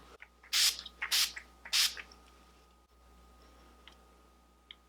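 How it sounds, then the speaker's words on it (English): Three short hissing sprays of makeup setting spray in quick succession near the start, followed by quiet room tone and a faint tap near the end. "I could also even improve how long it wears by using the setting spray again"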